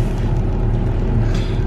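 A car engine idles in the cold at minus three degrees, a steady low rumble heard from inside the cabin, continuous and fairly loud with no voices over it.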